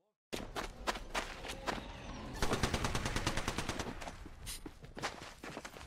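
Apex Legends gunfire: loud rapid bursts of automatic shots repeating steadily after a brief silent start, mixed with in-game footstep sounds, with faint talk underneath.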